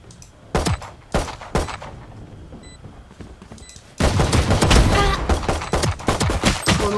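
Bursts of gunfire in the tactical shooter Valorant: a few sharp separated shots, then from midway a dense, loud, continuous fusillade of rapid shots and impacts.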